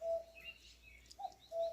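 A cuckoo calls in the early-summer countryside: faint, low two-part hoots repeat at a distance, with thin, higher chirps of other birds scattered between them and no voices.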